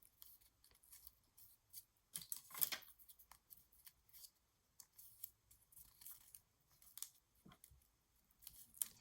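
Scissors snip through patterned paper for a 6x6 Christmas mini album, a series of short, crisp, close cuts in irregular bursts with quiet gaps between them.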